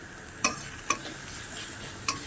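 Spice paste fries in hot oil for a katla fish curry: a steady close sizzle with three sharp spatula scrapes and stirring clicks, and no voices.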